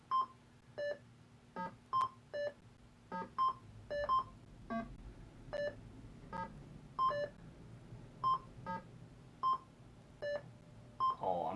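Repeated electronic beeps from the 1983 Atari 2600 game Breakout, about twenty short tonal blips at an uneven rhythm as the ball bounces, clear and fairly close over a quiet background hum.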